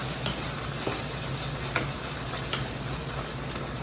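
Boneless chicken pieces sautéing in a hot pan for pineapple chicken with cream, a steady loud sizzle with occasional stirring scrapes, close up and without talk.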